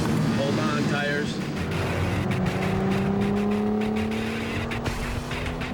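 A car accelerates hard during a chase, its engine roaring loudly and steadily with rising whine, tires straining underneath, close and continuous throughout.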